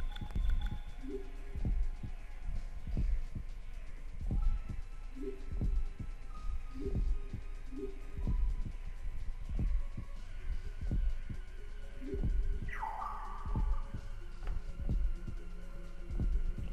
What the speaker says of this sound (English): Is that a heartbeat?